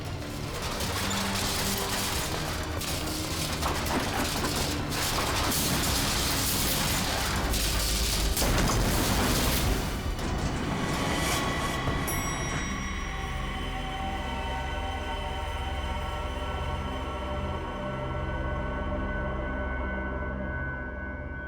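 An elevator plunging down and crashing: a loud, rattling mechanical roar builds with clattering impacts, then cuts to a lingering metallic ringing that slowly fades away.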